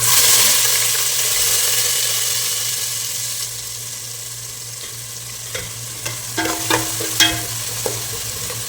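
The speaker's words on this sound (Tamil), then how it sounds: "ஜீரகம் ஸோ ஆனியன் போட்டுக்கிறேன்." Chopped onions and cumin seeds fry in a pan for a potato and bottle gourd gravy, with a steady close sizzle throughout and a few sharper clinks of stirring near the end.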